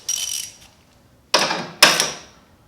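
Ratcheting of a wrench cranking the bolt on a Let's Roll cruiser motorcycle dolly, heard as three short bright rasping bursts, the first apart from a closer pair, with no talk.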